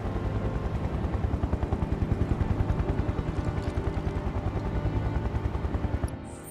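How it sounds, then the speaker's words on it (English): A helicopter in the video game Final Fantasy VII Remake thumps with rapid, steady rotor beats, loud and continuous, then cuts off near the end. "I'm hearing a helicopter"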